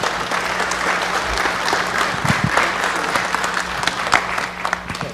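Sustained audience applause fills a city council chamber after a sergeant major is escorted out, steady and dense throughout with a faint murmur of voices underneath.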